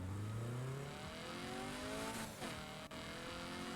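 Car engine revving in the Need for Speed racing game, a growly rising roar with climbing gear tones, loud and close, followed by a quick whoosh near the end.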